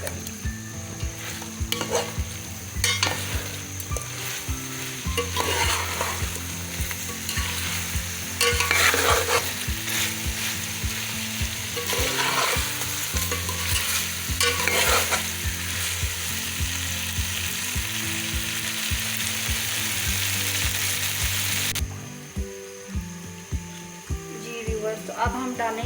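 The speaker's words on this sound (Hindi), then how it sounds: "और ये एग हम डाल देंगे, अच्छी तरह से इसको मिक्स करेंगे।" Egg being stirred into chicken biryani frying in a pot, a continuous close sizzle with repeated scraping stir strokes, ending in a quieter stretch near the close.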